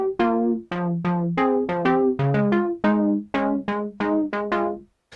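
A Prophet 6 synthesizer main patch for a song plays a steady run of plucky, bright notes, each with a quick attack and short decay, forming a bouncy melodic phrase heard alone.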